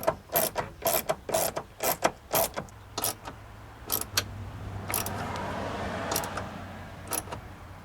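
A 2003 BMW 525i door's power window regulator under repair: a string of sharp ratcheting clicks and metallic knocks, then a low motor drone with grinding as the window lowers, close and fairly loud.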